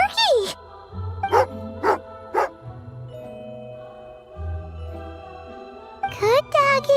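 Dog in the Genshin Impact video game, with short game voice bursts over background music and a few brief chiming sounds.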